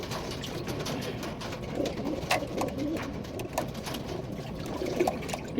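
Pink-nosed pigeons coo in a steady, overlapping stream of low burbling calls close at hand during a lice bath, with faint watery sounds in the background.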